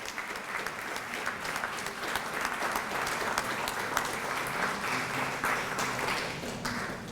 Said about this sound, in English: Could we give them again a round of applause for the award?